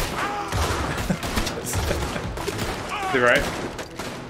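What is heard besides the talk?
gunshots from a gun in the video game Red Dead Redemption 2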